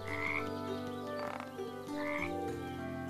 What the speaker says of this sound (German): Das sind nur die Frösche, das ist der See.